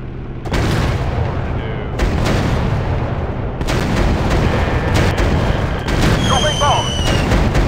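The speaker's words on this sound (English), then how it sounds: "Dropping bombs! Target eliminated!" Bombs explode in the WWI air combat game Warplanes WW1 Sky Aces, deep booms and blasts rumbling over a droning engine, with a person speaking over the action.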